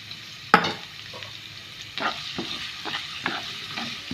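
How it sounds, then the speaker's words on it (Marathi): Chopped ginger and two green chilies fry in a pan with a soft steady sizzle, broken by several sharp stirring scrapes and clinks of a spoon against the pan. "आनी तें मातशें भाजयता बरें करून"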